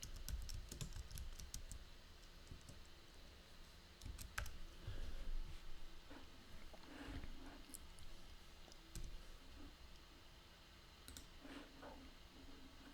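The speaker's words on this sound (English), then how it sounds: "So we click anywhere and type our text." Text being typed on a computer keyboard while working in Inkscape, heard as quiet, irregular bursts of key clicks and taps that come and go over low room noise, with no talking.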